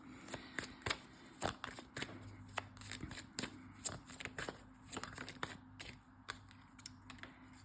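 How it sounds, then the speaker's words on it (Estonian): A deck of oracle cards is shuffled up close, producing a run of crisp, irregular riffling snaps and soft card-on-card slides with short pauses between them, with no talk over it. "Võtame oraakli kaardid ka juurde"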